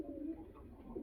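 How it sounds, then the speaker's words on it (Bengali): Giribaj high-flying pigeons coo softly in a home loft, a low steady throaty murmur running through the whole moment with no voices over it. "এগুলো কবুতর তো ভালোই,"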